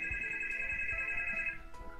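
An incoming-call phone ringtone plays as a sustained, clear electronic tone for about a second and a half and then cuts off. Faint low thumps sit underneath, and a brief quiet gap follows.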